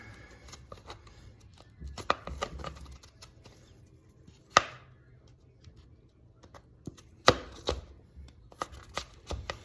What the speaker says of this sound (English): I'm slicing through the meat like you would a watermelon or cantaloupe